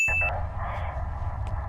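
A cell phone in the film World War Z gives a brief, faint electronic beep at the very start, quickly fading into a low rumbling background.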